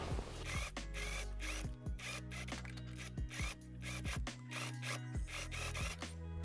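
A sewing machine understitches a tailored jacket sleeve seam, its needle hammering in a fast steady rhythm with brief pauses and restarts, close and clear without talk.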